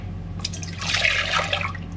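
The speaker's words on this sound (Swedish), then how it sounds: "Jag mäter upp hur mycket mjölk jag ska ha genom att så här hälla i koppen." Milk poured into a small cup at home, a brief liquid splash and trickle rising in pitch as the cup fills, close and fairly quiet with no talking.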